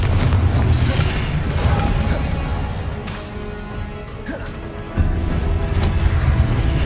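A Confringo spell blasts in Hogwarts Legacy, with a loud booming burst amid continuous combat rumble and crackle, and a sharp jump in loudness near the end.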